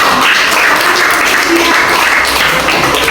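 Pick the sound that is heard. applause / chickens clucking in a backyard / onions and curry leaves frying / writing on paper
applause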